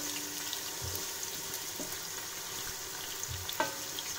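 Chopped onion frying toward brown in a pan makes a soft, even sizzle at moderate distance, with a few stirring scrapes and a light clatter near the end.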